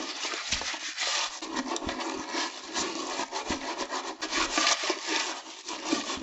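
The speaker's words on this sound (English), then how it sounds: "So I am going to scrub it." A toilet bowl scrubbed with a brush after a baking soda and hydrogen peroxide treatment, heard as steady, close, rough bristle rubbing in continuous back-and-forth strokes with no talk.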